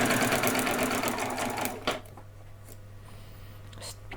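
A sewing machine runs at speed sewing a Halloween dress, loud and close for nearly two seconds before stopping, followed by faint handling clicks and a quiet hum.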